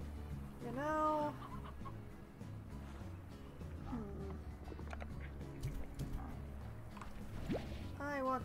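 Hens cluck in the video game Slime Rancher, with a few short bursts of clucking over a busy, steady game soundscape that carries low music and scattered effects.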